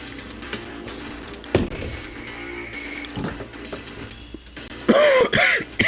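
A person coughs and clears their throat in a few harsh bursts, with quieter voices and rustling underneath and a louder throaty burst near the end, in what sounds like a smoke-filled room.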